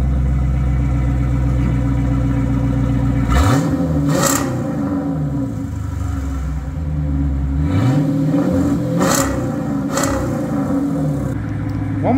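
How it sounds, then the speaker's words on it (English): Dodge Challenger V8 exhaust fitted with a YIKATOO muffler delete kit, keeping factory rear resonators and catalytic converters, idling with a deep burble and then revving hard in two separate bursts, loud and close with no talk. "So this is with the YIKATOO muffler delete, but we still have the factory rear resonators on the car with catalytic converters."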